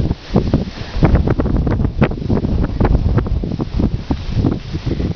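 Strong wind gusts across the microphone on a windy day in Waikoloa, with continuous low buffeting and rustling that rises and falls without letup.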